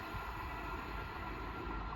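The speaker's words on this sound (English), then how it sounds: "those other Great Northern 387s are also from Ely to London King's" Great Northern class 387 electric trains passing at Hitchin on the East Coast Main Line, a steady continuous rumble of wheels and motors, close and even in level throughout with no voices.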